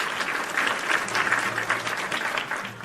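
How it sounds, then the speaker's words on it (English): A crowd of nobles applauds in the video game King of the Castle, a loud, dense wash of clapping that swells and holds for a few seconds before easing slightly. "I'm getting a lot of applause this session."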